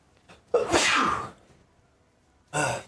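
A sharp, loud sneeze bursts out close by at a tabletop dice game session, followed by a quieter short burst of sound a moment later.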